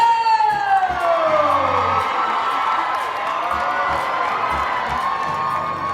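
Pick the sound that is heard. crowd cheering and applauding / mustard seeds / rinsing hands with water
crowd cheering and applauding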